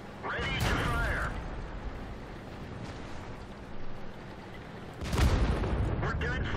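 Tank cannon fire in World of Tanks, a tank destroyer under attack from several enemies, with a loud broadband blast near the start and a second heavy boom later over steady engine rumble and battle noise.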